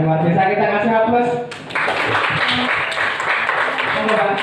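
A classroom audience claps for the school principal, a dense burst of applause rising sharply after a brief lull, with a voice speaking over the start.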